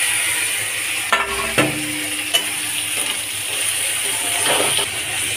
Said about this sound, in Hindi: ये हमारा प्याज ब्राउन हो चुका है, ऑलमोस्ट भून चुका है, थोड़ा सा और भूनेंगे बस।